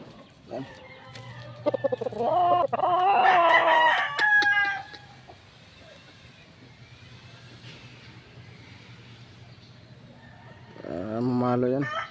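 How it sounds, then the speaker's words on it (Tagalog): A large rooster crows loudly in a long, harmonic call, with clucking nearby and a second crow near the end. "Malaking manok yan."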